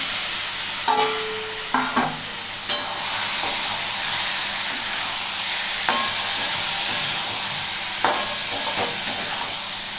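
Bottle gourd and potato with shrimp are stirred in a hot pan, giving a steady bright sizzle with occasional scrape and clatter of the spoon at intervals.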